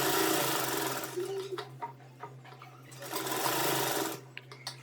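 Sewing machine running steadily while stitching a finishing seam around the neckline of a suit, the motor humming loud and close in two sustained bursts with a short pause between.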